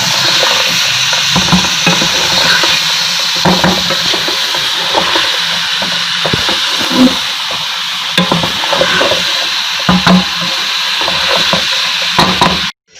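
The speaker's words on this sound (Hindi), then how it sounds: "अब हल्की सी आँच कर दूँगी तो ये पकती रहेंगी" Mixed vegetables cooking in a pan over low heat give a continuous soft sizzle and hiss, broken by repeated stirring scrapes and clatters, ending abruptly.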